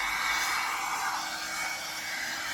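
A heated round brush hair tool runs on its high setting, giving a steady airy whir that holds level throughout with no voices over it.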